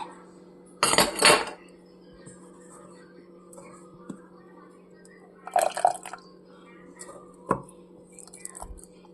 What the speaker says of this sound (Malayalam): ഉപ്പ് ചേർത്തു ഇളക്കി വയ്ക്കാം.